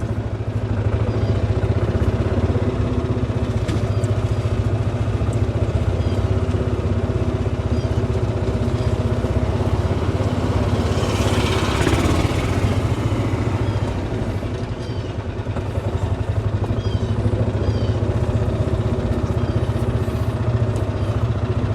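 A golf cart drives along a scenic path lined with live oak trees and Spanish moss, its steady motor hum and road noise continuous and close, with a brief swell of clatter midway and no talking.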